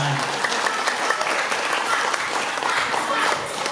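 Sustained applause from a crowd at a community gathering in Tabanan, Bali, steady and dense clapping close by for the whole stretch.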